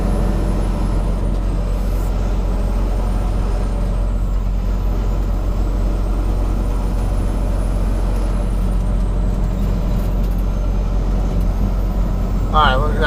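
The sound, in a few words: trucks passing by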